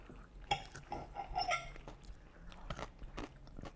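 Crunchy bites into roasted chaat masala potato and cauliflower, several close, sharp crunches with chewing between them and a faint clink of cutlery, no talking.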